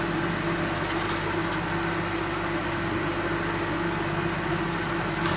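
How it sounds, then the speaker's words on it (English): A steady electric hum with a low mechanical drone continues without change, a microwave oven heating a sticky toffee steamed sponge pudding. "we'll indulge that into the microwave for 30 seconds"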